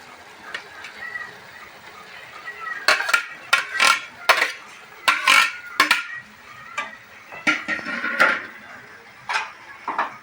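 Maggi noodles with scrambled egg being stirred in a pan: repeated scraping and clinking of a utensil against the pan in uneven bursts over a quiet background, with faint sizzling.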